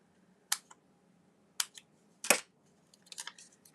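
Scissors snip through craft material for home decor, three sharp separate cuts and then a quicker run of small snips, close and fairly quiet.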